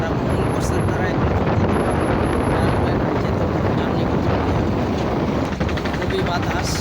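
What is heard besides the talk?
strong wind on a river ferry deck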